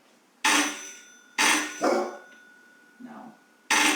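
A pet dog named Mika barking in response to a doorbell, three or four loud sharp barks separated by pauses, with a softer bark or yip between them, close by in a quiet room.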